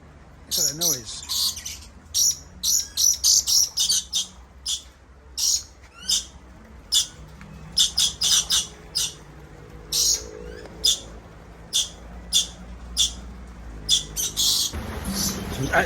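Birds in an aviary park calling in a rapid series of sharp, squawking bursts, some loud and close, with gaps between calls, over faint background murmur.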